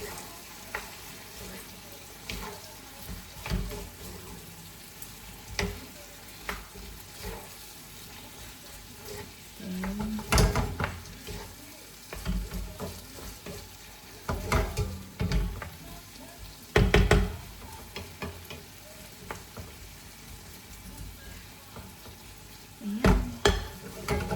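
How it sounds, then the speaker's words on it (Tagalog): An egg is stirred and cooked in a sizzling pan for a simple breakfast, with a steady frying hiss and intermittent scraping and clinking bursts from the stirring utensil, close and moderately loud. "Maglagay lang tayo ng isang egg. Okay na yun. Kasi hahaluin lang naman yan."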